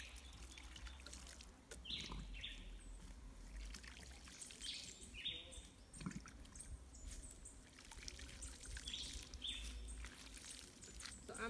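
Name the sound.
sprinkling water by hand onto plant roots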